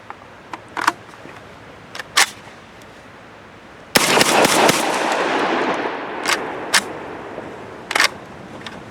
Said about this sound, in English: So we had one jam as expected, but the gun cycled.